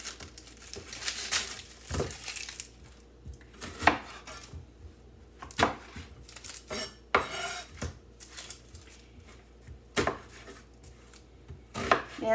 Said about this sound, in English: I'm going to cut up the garlic and onion first